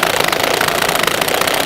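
A DeWalt drill with a failing clutch strains under load, making a loud, continuous, rough grinding whir with a rapid rattling vibration and no pauses.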